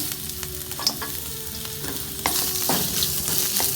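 Onions sauté in oil with fenugreek, cumin, cinnamon and spices for brinjal tamarind curry, crackling close up with scattered stirring clicks, and the sizzle swells louder partway through.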